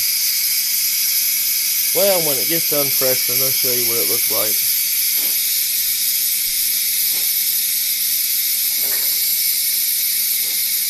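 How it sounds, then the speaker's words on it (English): Steam hisses constantly and loudly as pressure is released from a pressure cooker in a home kitchen, with someone talking over it. "There's your volcano with steam."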